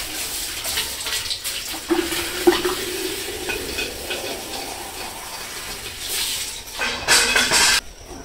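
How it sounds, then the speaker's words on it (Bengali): A chicken's water container being washed in a village yard, with splashing, scrubbing and water sloshing in uneven bursts, louder near the end, with no voices. "জলের পাত্রটা একটু পরিষ্কার করে নিতেছে"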